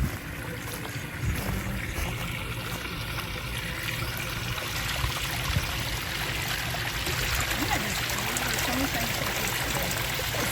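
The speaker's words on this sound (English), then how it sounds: "she's going to turn the water on so we can show" At a campground gem-mining sluice, water rushes and splashes steadily throughout, close and fairly loud, while people talk over it.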